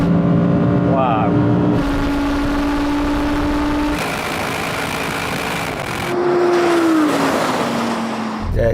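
An Audi RS6 GT and an Audi R8 GT drag racing, loud engines roaring and rising through the gears with sharp pitch climbs and a shift change late on, heard from inside with a voice briefly over it.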